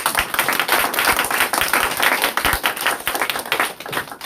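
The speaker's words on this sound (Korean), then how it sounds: "다시 한번 큰 박수 부탁드립니다" Dense applause from a seminar audience at a Korean academy lecture, steady crisp clapping filling the room for several seconds, loud and continuous with no speech over it.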